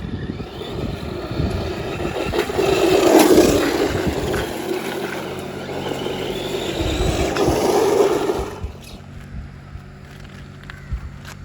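A Team Associated Pro SC10 RC car running outdoors, its motor whine rising and falling in two louder surges before easing off to a quieter hum, with no talk.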